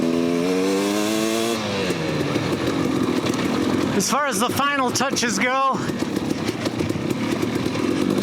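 A 2018 KTM 250 XC-W TPI two-stroke dirt bike runs continuously and loudly with a rising rev early on, while someone talks over the engine.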